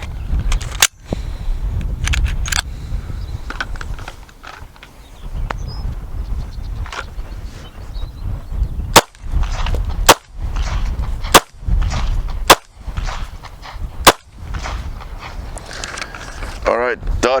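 Pistol shots fired with the strong hand in a draw-and-shoot drill, five sharp, loud cracks spaced about a second apart in the latter half, following earlier scattered shots and steady background noise with talk.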